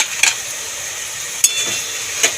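A spoon stirs a thick pumpkin and prawn curry (chal kumro chingri) in a pan, with a few sharp clinks against the metal over a steady faint sizzle, close up and without speech.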